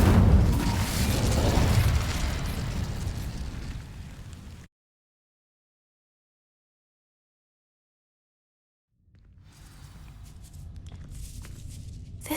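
A wizard casts the Incendio fire spell in Hogwarts Legacy, a loud whooshing burst with a booming low rumble that fades over a few seconds. Silence follows, then quieter movement and clattering sounds return.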